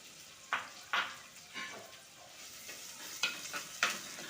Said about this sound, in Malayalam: ഇഞ്ചി വെളുത്തുള്ളി ഇങ്ങനെ നേരെ എണ്ണയിലേക്ക് ഇട്ട് കൊടുത്ത് മൂപ്പിച്ച് കഴിഞ്ഞാൽ നല്ലൊരു മണം കിട്ടും